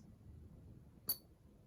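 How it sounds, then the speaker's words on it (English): A single small coin tinks once against the mouth of a glass bottle, a brief bright clink standing out against quiet low background noise, with no talking. "You can hear the little tink,"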